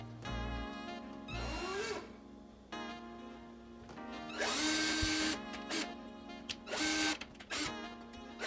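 A power tool bores holes in a wall to mount a bracket for a gaming console, running in whirring bursts with short pauses and a higher-pitched stretch partway through, fairly quiet and with no talk.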